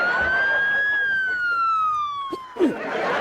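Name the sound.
ambulance siren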